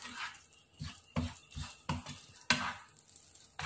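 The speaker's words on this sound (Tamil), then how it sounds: "இது மாதிரி சிம்ல வச்சே நல்லா கிளறி கொடுங்க" Sweet semiya kesari of vermicelli and sugar being stirred in a pan over low heat, a spoon scraping and sweeping in repeated strokes with a soft sizzle underneath, close and moderately quiet, no talking.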